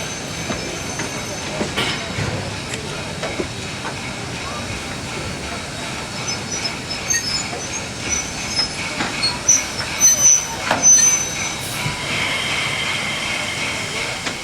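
Triple-headed steam locomotives on the Niles Canyon Railway at a steam festival, heard as a steady rolling train rumble with wheel squeal and some clatter, a bit louder toward the end, with voices in the background.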